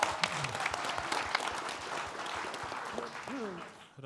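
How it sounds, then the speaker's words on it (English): Audience applause after a mayoral candidate debate, sustained clapping from a crowd with some cheering and voices mixed in, fading near the end. "Can we give him a big round of applause, please?"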